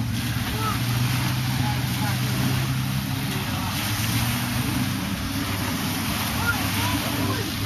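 Boat engines run near the Phi Phi Islands as a steady low rumble with wind and water noise, while people talk over it.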